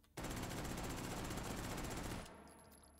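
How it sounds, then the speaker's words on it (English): Rapid machine pistol fire in the VR shooter H3VR, one sustained loud automatic burst of about two seconds, then a ringing, fading tail. "Is this a machine pistol?"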